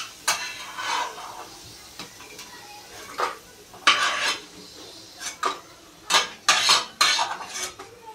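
Fried garlic being lifted from a frying pan: metal utensils clink and scrape against the pan in irregular bursts over a faint sizzle, close and fairly loud, with no one talking.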